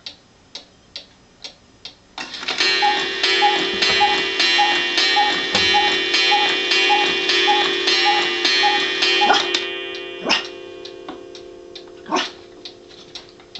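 A cuckoo clock ticks steadily with a bright chiming tone sustained over the ticks, loud and close, then single ticks continue after the chime fades; a small dog huffs faintly nearby.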